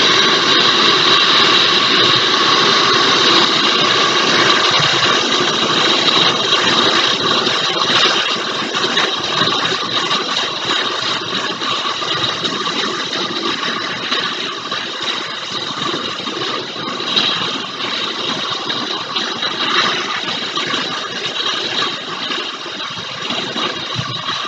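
A heat gun blows hot air onto a printed vinyl skin for a MagicBand, a steady, loud, close rushing hiss that holds constant for the whole stretch.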